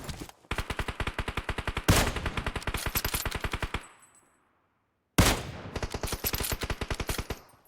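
Rapid automatic gunfire from PUBG Mobile rattles out in two long, loud, evenly spaced bursts, with a sudden silent gap between them before the shooting starts again.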